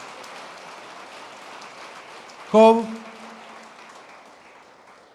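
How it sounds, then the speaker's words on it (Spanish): Church congregation applauds in a soft, distant patter of many hands that fades gradually, while a single voice briefly rises over it. "Dele ese aplauso fuerte,"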